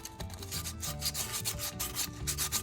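Dollar Tree sandpaper rubbed around the edges of a tumbler cup, a fast rhythmic scratchy rasping of back-and-forth strokes, close and steady with no talking.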